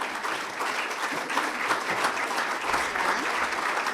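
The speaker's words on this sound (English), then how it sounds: "I ask you to congratulate with your applause our Ambassador of the Year for 2020, Betsy D" Sustained applause fills an awards gala hall of the Chamber of Commerce and Industry, steady clapping from a crowd honoring an ambassador of the year, continuous and fairly even without talk.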